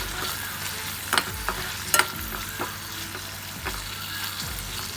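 Peanuts frying with French beans in a pan, a constant close sizzle broken by several sharp clicks and scrapes of a spoon against the pan, no talking.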